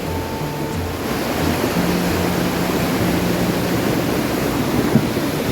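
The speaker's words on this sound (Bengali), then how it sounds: "নিচে দেখুন জলের স্রোত কিরকম।" Rushing water of the Dawai Khola river, swollen after heavy rain, roars in a loud, steady broadband wash that continues unbroken with no talking.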